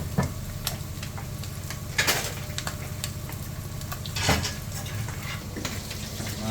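An egg fries in a pan with a steady, close sizzle that runs throughout, broken by a few sharp clinks of a utensil against the cookware. No one speaks.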